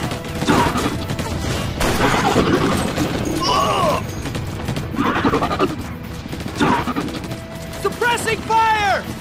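Gunfire from the Battle: Los Angeles video game crackles in repeated bursts through a dense, noisy firefight, mixed with impacts, crashes and shouted voices throughout.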